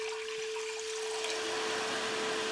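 Water flows by a rock as a steady, soft, continuous rush, with an unbroken pure tone humming over it throughout.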